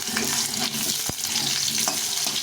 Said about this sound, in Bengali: আলুগুলো একটু ভালো করে ভেজে নেব